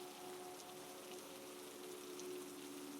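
Rain falling against a bay window, a soft, steady broadband patter throughout with faint tonal hum beneath, quiet and continuous with no voices.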